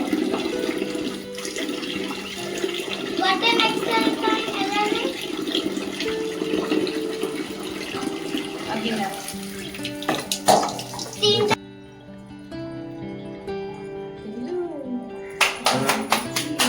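Fish are washed by hand in water for an Odia village cooking recipe, with continuous splashing and sloshing and running water that briefly drops away before resuming, and voices can be heard in the background.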